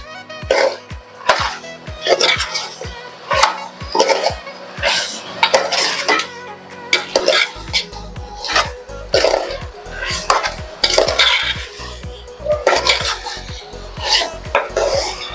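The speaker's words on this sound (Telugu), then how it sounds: "కవర్ యాడ్ చేసుకుని మళ్ళీ కలుపుకుందాం" Chicken and drumstick curry stirred in a metal pan, with a spatula repeatedly scraping and clanking against the pan in a steady, close rhythm throughout.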